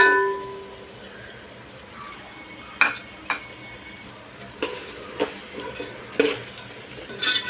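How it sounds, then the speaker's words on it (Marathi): Spoon stirring and scraping ground spices (goda masala, garam masala, red chilli, coriander powder, turmeric) in a pan for masale bhat, with soft background hiss broken by several sharp metallic clinks and taps of utensil on the pan, spaced irregularly. "चांगलं परतवून घ्यायचं आपल्याला।"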